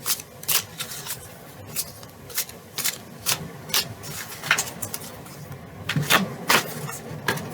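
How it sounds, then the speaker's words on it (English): A deck of tarot cards is shuffled by hand in a quiet room, giving a series of close, crisp riffling bursts at irregular intervals with short pauses between them. "I'm going to shuffle 3 more times."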